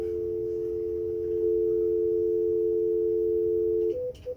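A telephone dial tone hums steadily and loudly for about four seconds while a phone number is being called, then cuts off into a few brief, different beeps near the end.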